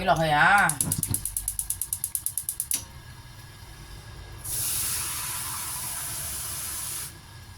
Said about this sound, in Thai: จากนั้นเรามาใส่น้ำจ้ะ